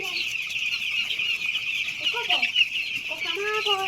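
Farm chickens clucking as they drink water, a steady bright chatter of many birds close by, with short rising calls standing out near the end.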